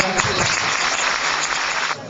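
An audience applauds at a university during a presidential visit, a dense, steady wash of clapping that fills the whole stretch loudly and evenly before tapering slightly at the end.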